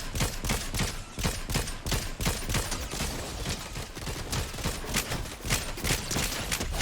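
Sustained video game shootout, with rapid gunshots crackling almost nonstop in dense, uneven bursts at a fairly loud, even level and no voices over them.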